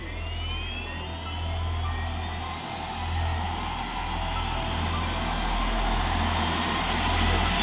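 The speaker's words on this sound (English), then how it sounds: "Go ahead and start the engines." Rescue boat engines running in a game scenario, heard as a continuous heavy low engine drone with a rising high whine on top, steady and close, gradually getting a little louder.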